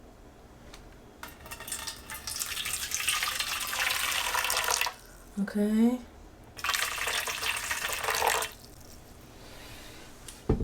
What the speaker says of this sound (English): All right, so now you're going to add your warm water.